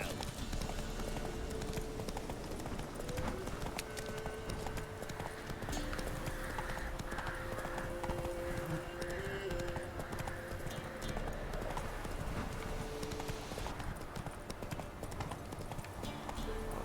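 Hooves of Roach, the horse in The Witcher 3 video game, clop at a steady gallop throughout, with a brief neigh, under continuous game music and ambience at moderate volume.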